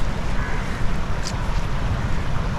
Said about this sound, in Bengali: আপনারা দেখছেন পদ্মার ভয়াবহ রূপ এবং এই টিবাদের পাশে প্রচুর স্রোত